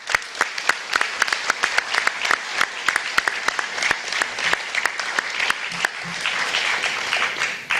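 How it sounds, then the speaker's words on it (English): An audience at an annual historic preservation awards event breaks into applause, with sharp, individual claps from a modest crowd that thicken toward the end. "So I'd like to have a round of applause for my partner,"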